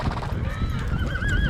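On a long horse drive, a horse gives a loud, close whinny that rises in pitch near the end, over a rumbling background of movement and a faint voice.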